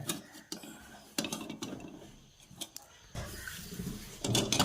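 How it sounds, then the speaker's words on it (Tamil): A metal cooking pot clanks and scrapes several times as it is set on a stove, close up, in a quiet kitchen, while making wheat halwa. "இதில் ஒரு சட்டி வச்சுக்கிடுங்க"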